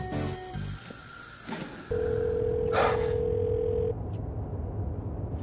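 A telephone call rings out unanswered, a steady electronic tone that sounds for about two seconds through the earpiece. A short gasp-like breath comes through partway, over low background hiss.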